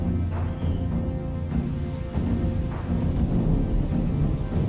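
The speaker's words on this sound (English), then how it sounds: "Lightning and thunder and a tornado." Low rumbling thunder rolls continuously with crashing bursts, a storm and tornado churning in the Miscreated survival game, loud and dense with no talk.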